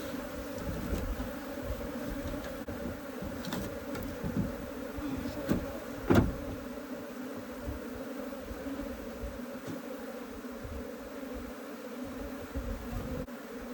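A large cluster of Africanized honey bees from a hobbyist hive makes a dense, continuous low buzz. It is steady and fairly faint, with occasional louder passes of single bees close by.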